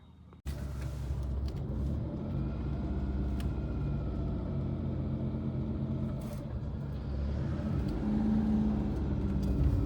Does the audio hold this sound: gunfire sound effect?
no